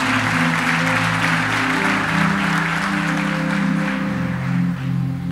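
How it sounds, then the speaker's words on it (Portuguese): A church congregation claps for Jesus during a Portuguese-language sermon, the applause sustained and loud over a low musical drone or keyboard chord. "Você pode aplaudir a Jesus por isso?"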